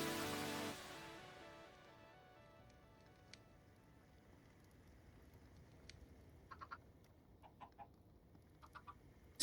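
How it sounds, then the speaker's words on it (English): Chickens in modded Minecraft give a few faint, scattered clucks in the later part, sparse and quiet against a low, steady ambient background. "Still hear the chickens."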